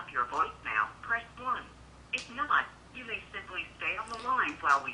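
A Motorola Droid Pro plays an activation call on loud speakerphone, with a tinny, compressed automated voice speaking in phrases separated by short pauses.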